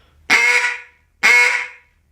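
Two loud, nasal quacks blown on a duck call, each note cut off sharply with a clean stop, evenly spaced and close, with silence between them.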